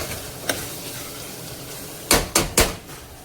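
Masala spices with red chilli powder are stirred in a cooking pot with tomato, a spoon scraping and clattering three times in quick succession near the end after a single earlier clink, with no talk.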